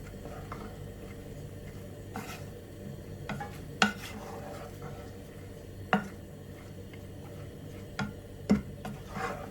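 Green gram and raw banana peel get mixed in a pan, with a spoon clinking and scraping against the metal in scattered sharp taps over a low steady background hum, no talking.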